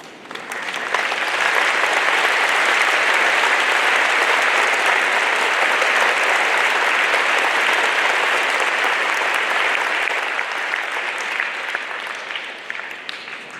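Sustained applause from an audience at a Veterans Day school assembly, steady and dense for most of the span before tapering slightly near the end, with no talk over it.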